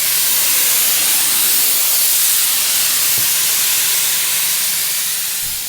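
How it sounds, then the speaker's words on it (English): An HVLP sprayer applies tire shine to RV tires outdoors, giving a loud, steady hiss of spraying air that runs unbroken for several seconds before easing slightly at the end. "Someone told me recently to try an HVLP sprayer to apply my tire shine."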